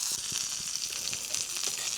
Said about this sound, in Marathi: तेलात परतून घ्यायच्या अशा मिरच्या